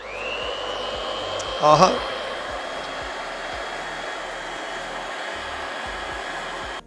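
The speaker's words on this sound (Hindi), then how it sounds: "और ये मेरे पास ग्राइंडर मशीन भी है, बड़ी जटील किस्म की मशीन।" An electric grinder machine grinding butter produces a steady high whine from start to finish, with a brief bump of handling noise and a short voice exclamation partway through.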